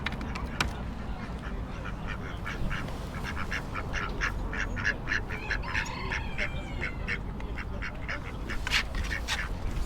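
Ducks quacking and geese honking at an outdoor poultry market in Roscommon town, Ireland, with repeated calls scattered across the scene over a steady crowd murmur and background bustle.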